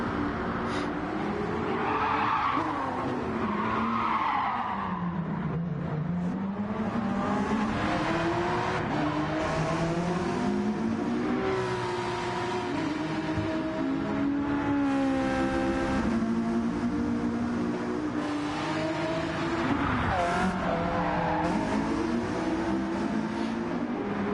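Race car engine in Gran Turismo 7 at Fuji International Speedway, the car sliding out of shape on worn tyres; a loud, continuous engine note rises and falls through gear changes, with tyre scrub under it.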